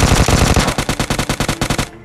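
Rapid UMP gunfire in PUBG Mobile Lite, a loud continuous burst of evenly spaced automatic shots that cuts off abruptly near the end.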